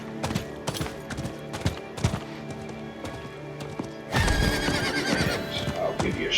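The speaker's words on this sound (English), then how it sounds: "the red horse that I'm riding here." A red horse mount in Diablo 4, a pre-order bonus, whinnies several times in short bursts over game ambience, followed by a louder, fuller stretch of in-game sound toward the end.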